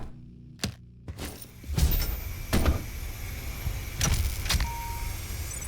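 An airlock door opens in the game DOOM Horizon. Mechanical whirring and hissing rumble alongside several sharp clanks and thuds, against a steady low hum.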